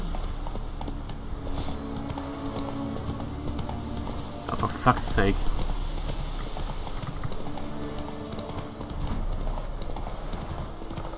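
Hoofbeats of Geralt's horse Roach in The Witcher 3 video game, a steady clip-clop of gallop running under game music and effects, with someone talking and swearing over it.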